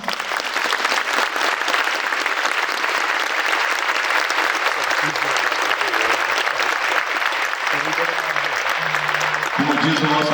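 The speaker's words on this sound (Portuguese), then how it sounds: "E agora eu peço para vocês uma salva de palmas." An audience gives sustained, dense applause at a Paraná highway department event. The clapping stays loud and even throughout, and a few voices emerge near the end.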